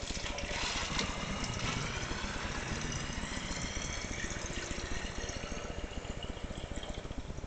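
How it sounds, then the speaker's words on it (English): Tap water runs steadily into a small homemade baby shaker toy container, a continuous rushing and gurgling flow from start to finish with no talking. "And then you fill it with water."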